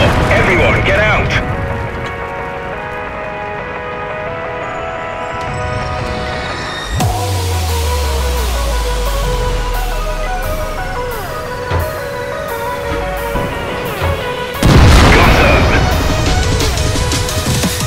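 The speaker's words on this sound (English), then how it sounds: "Ammo rack hit. We're done for." A tank's ammo rack detonates in World of Tanks: a sudden heavy blast with a deep, falling rumble that fades over several seconds, set against busy battle noise, with a second crash later.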